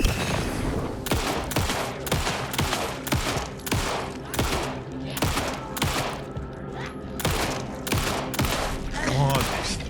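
Sustained gunfire against an enemy in Alan Wake 2, a long run of loud, evenly spaced shots pounding through the whole stretch, with game ambience beneath.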